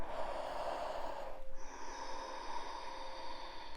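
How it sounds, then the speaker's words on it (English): Slow, deep breaths drawn during a seated chair yoga session, close and steady, with an audible inhale giving way to a softer exhale. "Let's take a few breaths here."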